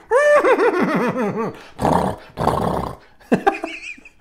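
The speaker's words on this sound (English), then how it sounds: "Got the sound of a horse whinnying." A loud, wavering animal whinny rises and falls, followed by rough snorting bursts and a final shrill cry, all close and without talk.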